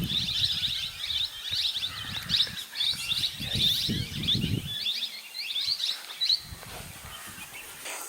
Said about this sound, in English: gets melodiously symphonized with the echoing of a number of birds during evening and early